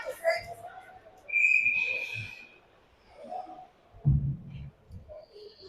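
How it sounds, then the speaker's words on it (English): Referee's whistle blown for icing during an ice hockey game between the Rampage and the Blue Jackets, a single sharp shrill blast standing out briefly amid arena noise, with a commentator's voice nearby. "We have a whistle for icing."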